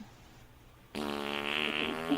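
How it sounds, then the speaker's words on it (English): A fart rings out mid prank call, a sudden loud buzzing rasp that starts abruptly after quiet and holds for over a second with a rattly, reedy tone. "the farting could not have been timed better"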